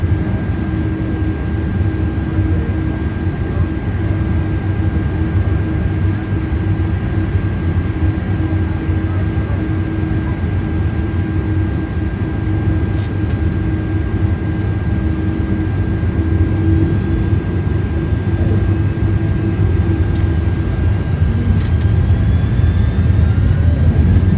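Airbus A330-300 jet engines at full takeoff power in Microsoft Flight Simulator 2024, a steady heavy roar with a constant whine, unbroken for the whole stretch.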